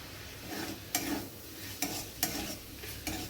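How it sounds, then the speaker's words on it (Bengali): Ground coriander, cumin, turmeric and chili powder fry in hot oil for a palak keema with paneer, a steady close sizzle broken by four or five sharp scraping stir strokes. "মশলাটা খুব ভালো করে ভাজা ভাজা হয়ে গেছে।"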